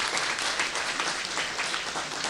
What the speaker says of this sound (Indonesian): kita beri aplaus, tepuk tangan.